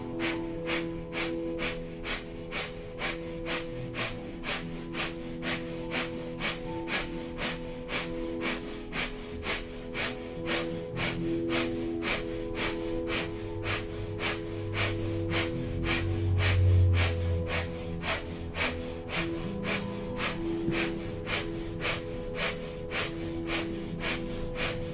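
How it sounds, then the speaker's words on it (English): Kundalini yoga breath of fire: rapid, evenly spaced forceful nasal exhalations in a steady pulse that continues throughout, fairly close and prominent over a constant tonal background. "We'll begin breath of fire."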